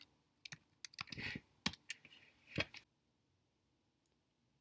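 Typing on a computer keyboard while writing a Python script: several bursts of quick clattering keystrokes, close and fairly quiet, then a pause and one last isolated tap.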